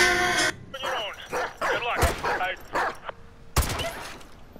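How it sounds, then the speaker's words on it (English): In Modern Warfare 2 Remastered, a dog barks and yelps close by through bursts of gunfire, and a player's voice talks over the action. "That dog just took the bullet."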